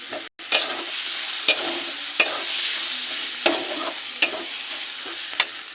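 Turmeric, cumin and chili powder fry with tomatoes in a pan for chicken do pyaza, a loud close sizzle punctuated by regular sharp stirring scrapes.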